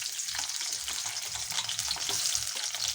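Onions fry in a pan, giving a loud, steady, close hiss and sizzle with faint stirring scrapes and no talk.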